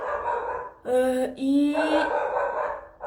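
Indoors, a pet dog gives two quick barks close by, cutting over the steady sound of someone talking.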